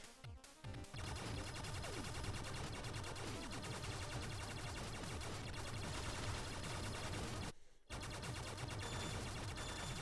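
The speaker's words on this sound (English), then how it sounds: "Now this gun is called a wave beam" Wave beam gun in Blaster Master Zero firing continuously in a dense, loud stream of rapid electronic shots, with two brief gaps of silence, no voices.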